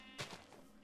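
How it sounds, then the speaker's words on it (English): Sheep in the Minecraft video game give a single short bleat, fairly close, followed by a faint second call. "Hello, sheep. Out of the way, sheep."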